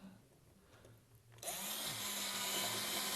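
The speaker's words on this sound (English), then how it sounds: "We're all done drilling." A power drill whirs into life after a quiet start and runs steadily at high speed, close by and loud, with a faint bite as it drills screw holes.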